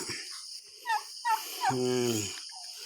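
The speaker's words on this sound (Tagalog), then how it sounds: "Pabo ko naman yan." A turkey gobbles with a rapid, warbling burst after a couple of short calls, close and fairly loud against a quiet outdoor background.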